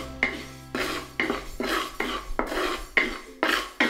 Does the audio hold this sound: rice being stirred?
yes